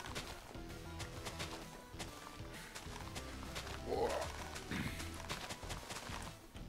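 A horse in the Minecraft video game: clip-clop hoofbeats and a whinny rise over busy game background sounds, moderately close and quiet.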